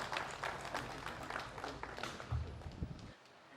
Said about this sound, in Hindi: बहुत जोर से तालियों का स्वागत कीजिए